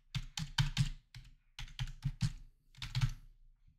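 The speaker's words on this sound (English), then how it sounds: "So just type that in on both of these locations here." Close, quick bursts of typing on a computer keyboard, several rapid key clusters separated by brief gaps, fairly clear and heard without talk.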